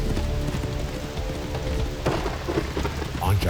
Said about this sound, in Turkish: Yağmur bardaktan boşanırcasına yağıyor, şimşekler gökyüzünü aydınlatıyor, gök gürültüleri tüm ülkede yankılanıyormuş